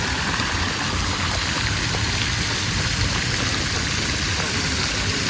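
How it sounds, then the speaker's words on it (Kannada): Water rushes steadily and continuously from a fountain spout, a dense even hiss with no pauses or changes. "ಇಲ್ಲಿ ನೋಡಿ ಒಂದು ಬಾಯಿಂದ ಏನೋ ನೀರು ಬರೋ ಥರ ಮಸ್ತಾಗಿದೆ"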